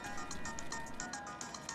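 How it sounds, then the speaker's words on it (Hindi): A mobile phone ringtone plays on its own in a repeating pattern of short electronic tones, fairly faint and steady over low background hum. "तेरा फोन बज रहा है बे"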